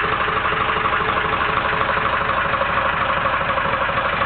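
A Beta Marine BD3 tug engine idles steadily up close, a loud continuous diesel chug with an even rapid knock and no voices over it.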